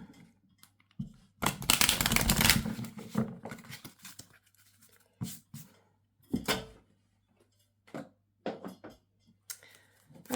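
Tarot cards are shuffled by hand in scattered bursts, one longer riffling flurry followed by short crisp flicks and taps, close and quiet with near silence between.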